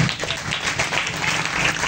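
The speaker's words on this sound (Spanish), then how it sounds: "Denle un aplauso a Dios" Audience applause at a Spanish-language church talk about John Wycliffe, the Bible translator, a short burst of steady clapping from a gathered crowd with no voices over it.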